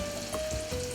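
Oysters fry in oil filling a pan halfway, making a close, steady, crackling sizzle with a faint whine running through it and no voices.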